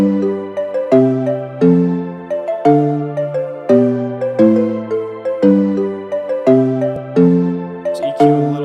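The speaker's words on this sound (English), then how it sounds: "like another bell or another sound just to stack with that initial pluck we have" A synth bell layered over a pluck melody, loud and clear, with bright struck notes in a steady repeating rhythm, each decaying quickly before the next, with no talk.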